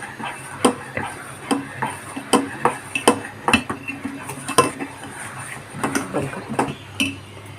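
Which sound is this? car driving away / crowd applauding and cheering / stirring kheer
stirring kheer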